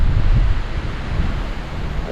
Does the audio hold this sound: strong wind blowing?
yes